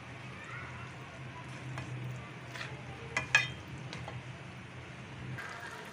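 Rice being stirred in a pot for zarda, soft scraping and stirring with a faint sizzle and a couple of spoon clinks, quiet and close, with a voice talking now and then.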